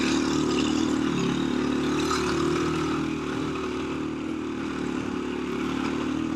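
A KTM 350 dirt bike rides through the desert, its engine droning loud and steady at close range for the whole stretch, with a slight dip in pitch midway and constant wind roar over the top.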